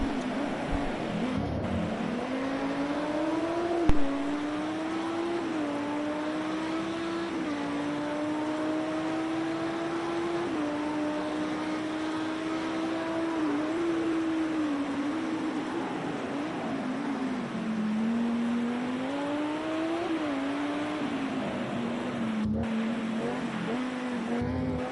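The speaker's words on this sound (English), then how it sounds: "You can hear him working that throttle" A Lamborghini Super Trofeo race car engine drones steadily at Imola as the driver works the throttle. The pitch rises and dips again and again through gear changes and corners, and the engine stays loud and continuous from start to end.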